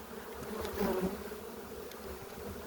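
A dense, steady buzz of many bees close by, a continuous droning hum with no voices.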